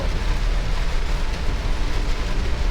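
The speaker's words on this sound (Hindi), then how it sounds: "बारिश इतनी गजब हो रही है" Heavy rain falls steadily during a severe thunderstorm, a dense, continuous roar of downpour close by with no voices over it.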